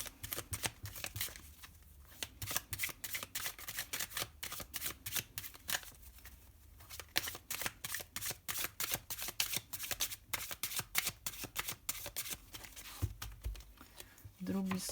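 Tarot cards shuffled in a Valentine's Day Scorpio reading, a dense run of quick papery riffles and flicks repeating steadily, fairly close, with soft talk underneath.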